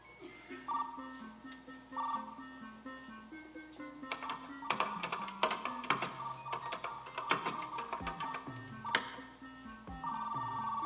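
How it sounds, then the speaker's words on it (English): Computer modem dialing out over a phone line to a school's computer: a sequence of stepped tones and dial beeps, then harsh bursts of screeching handshake noise, loud and continuous throughout. "He is calling the school's computer."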